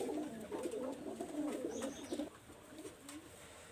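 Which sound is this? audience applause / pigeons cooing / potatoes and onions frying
pigeons cooing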